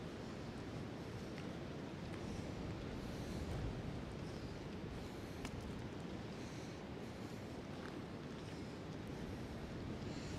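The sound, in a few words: wind blowing in Prospect Park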